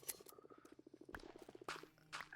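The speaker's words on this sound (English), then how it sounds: "We made a frog sanctuary" A steady, rhythmic chorus of croaking frogs in a video-game frog sanctuary, quick repeated pulses close and fairly quiet, with a few brighter clicks mixed in and no talking.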